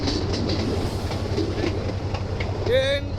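A passenger train rolls steadily along its rails with a continuous rumbling clatter of wheels, close and fairly loud, and a brief rising metallic whine near the end.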